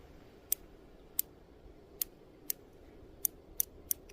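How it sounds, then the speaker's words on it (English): Crisp tactile clicks from adjusting a Vector Optics Frenzy Plus 1x31x26 red dot optic with a skeletonized aluminum housing, seven separate close clicks at an uneven pace over a quiet hiss. "Let's see if we have any tactile clicking."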